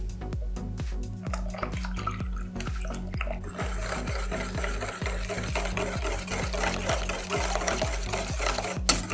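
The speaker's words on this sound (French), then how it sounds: "on va la verser dans le fromage blanc et fouetter pour que le mélange soit bien homogène" A whisk beats warm vanilla cream into fromage blanc in a bowl, giving a fast, regular rhythm of wet, close strokes that continues throughout, ending with one sharper knock, no voices.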